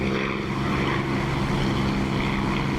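A WWII propeller aircraft engine in the DCS flight simulator, heard with the canopy open: a steady, loud, droning rumble with wind noise, continuous and alone.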